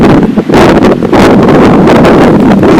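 Strong storm wind with driving rain roars and buffets the microphone in heavy, continuous gusts, bending fir trees, loud and close with no voices.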